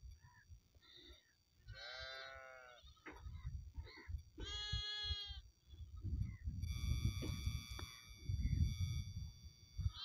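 Goats bleat in two clear, drawn-out calls at a border village in the desert, with low rumbling noise and a faint high tone near the end.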